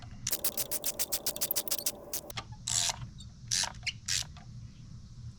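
Ratchet tightening spark plugs on a Ford Focus ST, a rapid run of close, crisp clicks followed by a few short separate ratcheting bursts.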